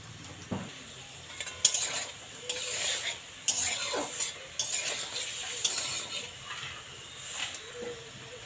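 Maida biscuit dough frying in oil for madan kotkoti, with a soft sizzle beneath intermittent scraping and clinking as a utensil turns the pieces in the pan, fairly faint and without talk.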